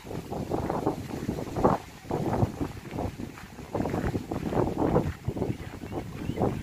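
Strong wind buffets the microphone on a walking path by the Lachine Canal in Montreal, in loud, gusting roars that rise and fall, with no voices heard.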